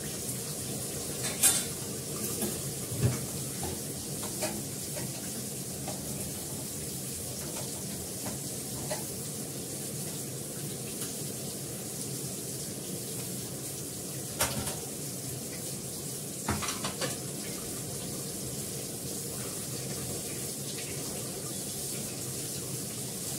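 Potatoes sauté and sizzle in a pan, a steady frying hiss with occasional scrapes and clinks of a spatula stirring against the metal, close and continuous.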